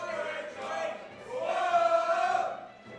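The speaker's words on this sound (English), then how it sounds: "The crowd is screaming" Tournament crowd at a Super Smash Bros event roaring and screaming in a sustained swell that builds, peaks, then eases off, loud and close with many overlapping voices.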